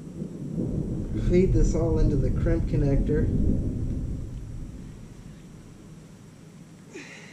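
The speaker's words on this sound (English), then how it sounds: "there's a storm coming." Low thunder from an approaching storm rumbles in the distance beneath a voice as he works on an electric scooter fuse, then fades to a quiet background.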